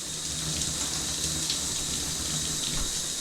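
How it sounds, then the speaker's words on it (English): Water streams steadily from a freshly cleaned shower head, previously clogged with mildew and mold and descaled with vinegar and baking soda, making a continuous close hiss of spray and splashing with no talking. "See now, you see the water is coming out really nice."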